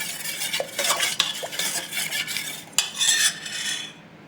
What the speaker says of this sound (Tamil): நம்ம இந்த மாதிரி கரண்டிலே நம்ம மசி வச்சிடலாம் நல்லா மசிஞ்சிடும்